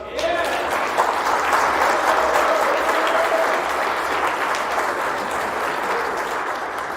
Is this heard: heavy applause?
yes